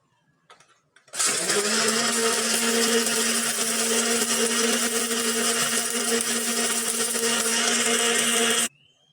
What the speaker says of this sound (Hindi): इसको हम ब्लेंड करेंगे।